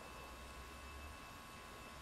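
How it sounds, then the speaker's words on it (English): Airbus A320 jet engines in the X-Plane flight simulator, a Finnair flight from KPDX to KSLC, produce a faint, steady broadband roar and low drone throughout with no voices. "Look at those engines go."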